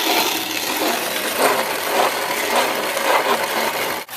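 A steel-wheel hand grinder crushes dried corn into meal, giving a steady, coarse grinding rasp with gentle rhythmic surges about every half second, close and fairly loud, then a brief cutoff near the end.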